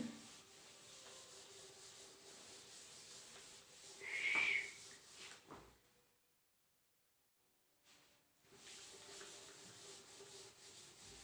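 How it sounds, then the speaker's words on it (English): Faint scrubbing of a board being wiped clean in a classroom, soft continuous rubbing strokes with a brief louder squeak, then a pause of near silence before the rubbing resumes. "I will rub the board now."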